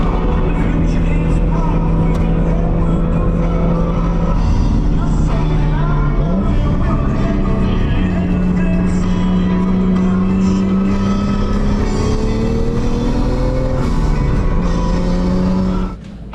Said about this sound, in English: I'm gonna go take a 240 for a drive.